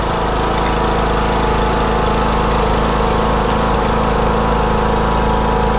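A John Deere LA105 lawn tractor engine runs loud and close with a harsh, continuous drone whose speed rises and falls as it surges throughout.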